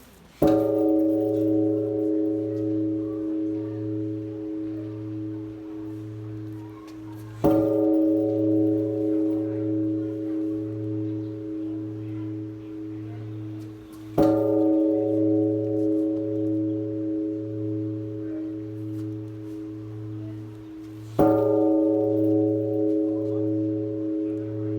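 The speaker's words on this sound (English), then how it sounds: "Now we've got a bell and we're going to bang it for luck." A temple bell in China is struck for luck four times at even intervals, each hit ringing out with a bright metallic clang and a long sustained hum that carries into the next strike.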